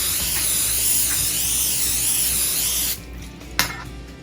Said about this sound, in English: So now we're gonna spray some spray onto the skillet.